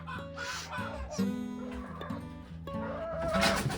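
Crested Legbar hens in their pen give steady, overlapping clucks and low murmurs at close range, with a faint bird-like squawk near the end.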